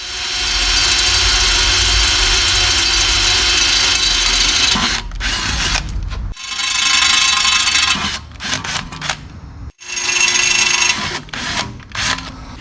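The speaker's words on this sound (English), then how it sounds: "So I'm going to drill these out real quick." A power drill bores out parts for a Jake's Performance 4L80E Recal shift kit: a loud, steady whine runs for about five seconds, then breaks into several short, close stop-start bursts.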